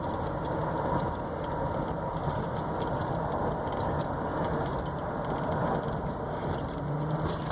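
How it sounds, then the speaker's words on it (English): A 1999 GMC Safari high-top conversion van accelerates normally, its engine a steady, low droning hum from inside the cabin with road rumble beneath it and no change in pitch or loudness. "So this is just normal acceleration here."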